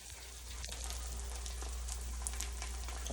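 An egg with its yolk broken up fries in a pot for a breakfast sandwich, giving a steady, close, even sizzle with no talking.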